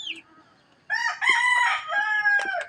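Backyard chickens cluck while a rooster lets out a loud, drawn-out crow close by, following a short faint call at the start.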